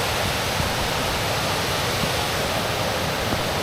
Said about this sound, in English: so the wee camera picks this waterfall up